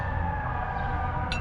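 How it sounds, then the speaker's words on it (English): Fire truck and emergency vehicle sirens sound outdoors amid city traffic, a steady loud wail blended with engine rumble for the whole stretch, with a brief higher tone near the end. "Got motorcycles, got fire trucks, police cars, ambulance, right?"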